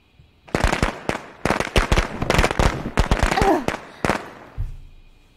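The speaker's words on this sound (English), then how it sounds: "And we love firecrackers here at Natch Evil Streams." Rapid bursts of firecrackers crackle and pop in a video game, dense clusters of sharp bangs going off for several seconds before fading to a low rumble.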